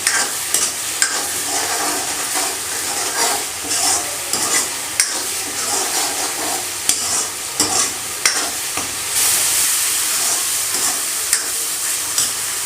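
A thick potato and onion gravy sizzles in a pan while a spoon stirs and scrapes through it in irregular strokes, with steady frying hiss underneath and no talking.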